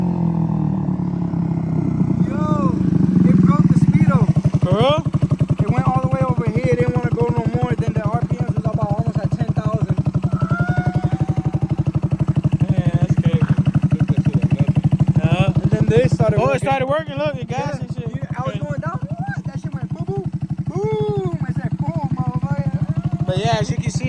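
A swapped-engine moped runs at full throttle, its steady buzzing drone holding loud and continuous throughout while people talk over it.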